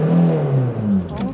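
A manual car pulls away uphill as the clutch is let out with a little throttle, the engine note rising close and loud for a moment before easing off.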